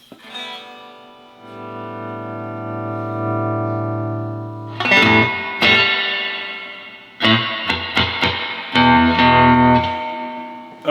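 Guitar notes ring out through the stock spring reverb tank of a vintage Fender Princeton Reverb amp, a sustained chord first, then sharp plucked hits that splash and echo with a metallic wash.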